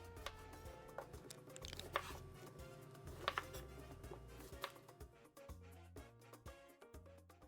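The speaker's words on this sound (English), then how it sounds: "I'm just gonna start cutting them into halves" A knife cuts six limes into halves on a cutting board, a series of faint, irregular chopping taps and thuds close by, with no talking.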